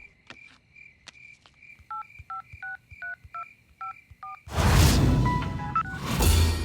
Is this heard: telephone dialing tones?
yes